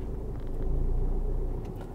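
A car reverses slowly during a driving lesson, its engine a low, steady rumble that swells slightly midway and holds close and even throughout, with no talk over it.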